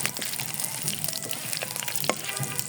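Garlic fries in oil in a pan for a taki fish dish, a busy close crackle and sizzle with sharp pops scattered through a steady hiss.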